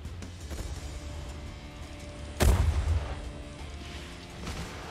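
Missiles launch from a warship in the naval combat game Refight: The Last Warship, heard as a single sharp, booming blast mid-clip over a low, steady background rumble.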